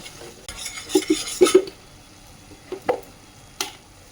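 Gram flour is stirred into a Kashmiri-style paneer curry in a pan on the stove: a spoon scrapes and clinks against the metal in uneven strokes, with a faint sizzle underneath.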